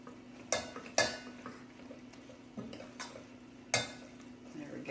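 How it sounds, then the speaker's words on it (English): Well-drained spinach is stirred into a creamy vegetable casserole in a pot, with a few sharp spoon knocks against the rim over a faint, steady kitchen hum. "plop in that well-drained spinach and stir that around a bit"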